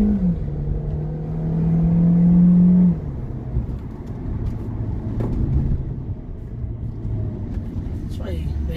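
A 1.8-litre car fitted with a stainless steel 304 exhaust diffuser pulls away from a traffic light, its engine rising steadily for a few seconds and then settling into a lower, quieter rumble amid street noise, with birds faintly audible.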